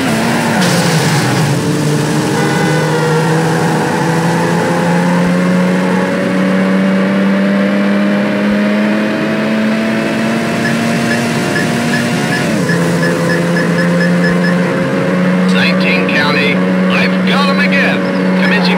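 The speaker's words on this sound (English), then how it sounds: "high-speed pursuit. Vehicle is a red Mercedes CL55." A red Mercedes CL55 engine in Need for Speed Hot Pursuit 2 drones steadily and loudly, its pitch climbing gradually, dropping at a gear change, then rising again, with fainter game sounds layered over it.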